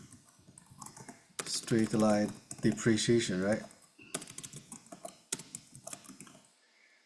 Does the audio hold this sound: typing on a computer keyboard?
yes